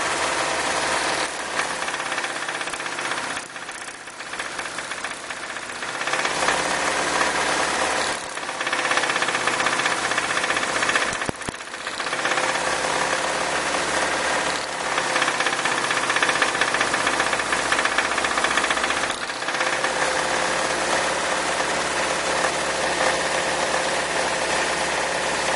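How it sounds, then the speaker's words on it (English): An engine suffering detonation knock runs steadily while its spark plug wires are pulled off one at a time, a loud continuous rattling clatter with brief changes in tone and dips where cylinders drop out. "I'm going to take spark plug wires off this thing one at a time and see if any of that makes the noise settle down"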